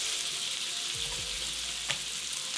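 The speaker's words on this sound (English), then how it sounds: "we're gonna add our steaks. Hear that sizzle? That's what you want." Steady hiss and crackle of reverse-seared steaks searing in a hot pan, continuous and close, with a faint clink partway through.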